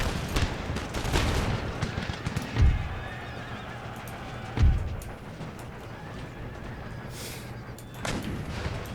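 Musket volleys crack out in Empire: Total War as infantry in square formation fire, two sharp bursts standing out amid a constant battlefield din of horses whinnying, hooves and distant gunfire.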